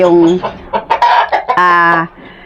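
A noisy chicken clucks loudly and repeatedly, with a sustained crow-like call toward the end, in a backyard flock of gamefowl stags and a hen.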